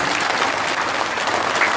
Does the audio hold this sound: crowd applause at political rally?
yes